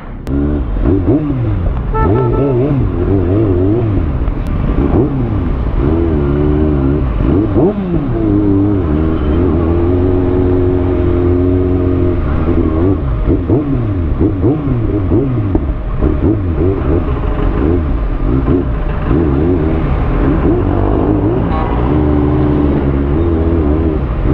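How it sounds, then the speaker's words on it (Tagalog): Cars sit in heavy road traffic, engines droning and revving steadily throughout with a loud, continuous rumble close by and no talking. "Traffic talaga."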